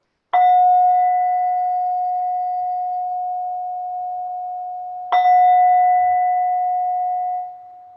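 Meditation bell closing a mindfulness practice, struck twice about five seconds apart, each a clear, loud, pure ring that sustains and fades slowly in a quiet room.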